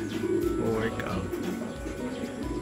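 Pigeons cooing and fluttering inside a loft, soft repeated coos over a steady busy background, with a person talking nearby.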